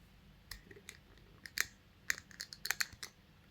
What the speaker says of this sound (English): small wire here so that we can clip our alligator clip from our oscilloscope properly. So I'll cut some of wire.